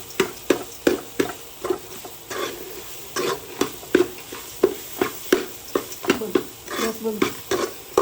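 A spoon scrapes and stirs masala frying in a pan for a Mangalore-style clam and rice-ball dish, with steady rhythmic strokes over a soft sizzle, close and clear.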